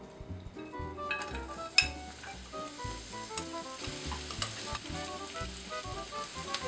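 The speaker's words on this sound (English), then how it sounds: "I'm going to caramelize the onions." Onions caramelizing in a sauté pan give off a steady sizzle with stirring scrapes, over a continuous tonal backdrop.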